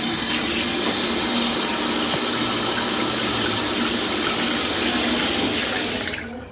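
A newly installed replacement shower head runs steadily in a bathroom, a continuous loud hiss of spraying water that holds even for several seconds before cutting off sharply at the end.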